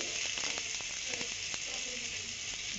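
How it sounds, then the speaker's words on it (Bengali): Ginger paste sautés in a pan with a soft, even sizzle and a few faint ticks and pops. Fairly quiet and steady throughout, with no talk. "আদা বাটা দিয়ে একটু কষে নিচ্ছি"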